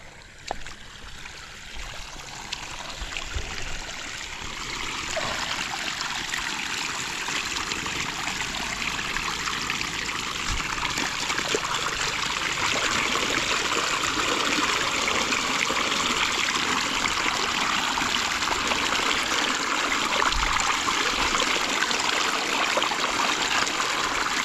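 Irrigation water floods an eggplant field, a continuous rushing, trickling flow that stays steady and fairly close for the whole stretch with no talking.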